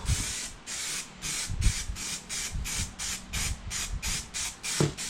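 A spray gun lays a thick coat of primer on a car bumper in about ten short, evenly spaced hissing bursts, each a sharp spray followed by a brief pause, heard close and alone.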